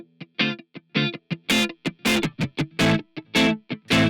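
An electric guitar played through a Pulsar Primavera spring reverb with the drive fully up gives loud, distorted, choppy bursts of notes and stabs in an uneven rhythm, each decaying quickly between hits.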